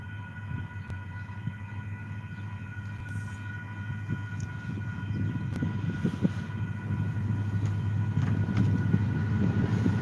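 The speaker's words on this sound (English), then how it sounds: "Here comes another train, guys." A train rolls slowly past near the old Apache Garage by the railroad on 4th Street in Benson, a continuous low rumble and clatter that grows gradually louder, with faint steady tones above it and no talking.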